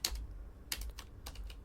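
Text is erased on a computer keyboard with a few quick, close keystrokes in small clusters, soft and clicky over a low background rumble, with no talk.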